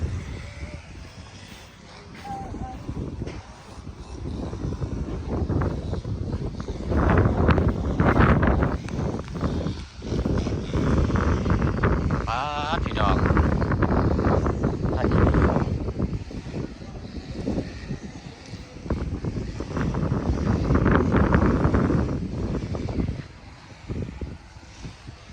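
Strong wind buffeting the microphone in gusts, a loud rushing roar that swells and eases over a long stretch, with no clear speech.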